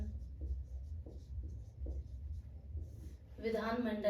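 Chalk scrapes on a blackboard as Hindi words are written in a lesson, a series of soft scratchy strokes with short gaps, followed by a teacher's voice starting to speak.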